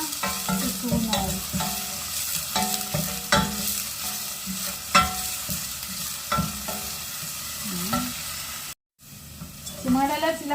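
Onion and garlic sizzle and fry in a pan, with repeated scraping and stirring strokes of a spatula over the steady crackle, loud and close, briefly cutting out near the end.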